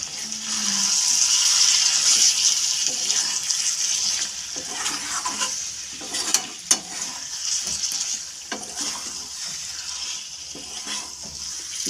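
A pan of chicken liver curry, with chopped coriander just added, sizzles steadily while it is stirred. Soft scraping and clicking stirring strokes sit over a continuous frying hiss, with no voice.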